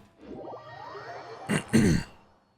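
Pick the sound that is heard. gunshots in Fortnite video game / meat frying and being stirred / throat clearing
throat clearing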